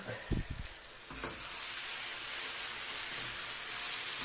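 Liver with apples and onion stewing in a pan, giving a steady soft sizzle and bubbling after a few brief clatters at the start.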